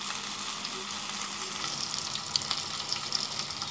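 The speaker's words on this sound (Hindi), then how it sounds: "जब तक मैं फ्राई करती हूँ फिर आपसे मिलती हूँ।" Stuffed green chillies filled with masala sizzling steadily in hot oil in a pan, a dense, even crackle close by with small pops toward the end, no voices.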